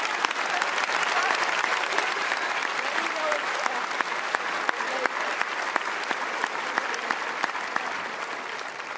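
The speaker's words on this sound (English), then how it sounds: "Please join me in a round of applause for these dedicated Carolina employees." Sustained applause from a large graduation crowd honoring university staff at a UNC-Chapel Hill ceremony for the Class of 2020, steady dense clapping with sharp individual claps poking through for the full stretch.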